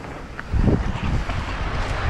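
Strong wind blows outdoors at a hilltop riding spot, a loud broadband roar of gusts buffeting the microphone without a break.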